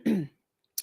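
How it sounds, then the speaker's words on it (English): A short throat clearing near the start, close and fairly loud, followed by silence and a faint brief noise at the end. "Let me clear my throat."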